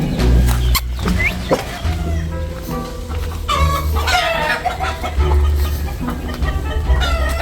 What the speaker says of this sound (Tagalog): maraming manok dito.